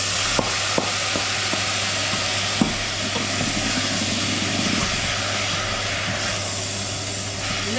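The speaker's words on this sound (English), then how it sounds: "Now I'll be adding tomatoes." Tomatoes hit onions already frying in a pan, setting off a loud, continuous sizzle. A few sharp utensil clicks come early, then stirring scrapes run beneath the hiss.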